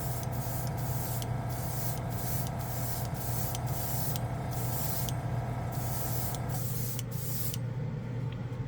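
Steady close hiss of chrome mirror paint sprayed from an airbrush at 15 PSI, continuous and loud, with a faint rhythmic mechanical ticking underneath, no talk.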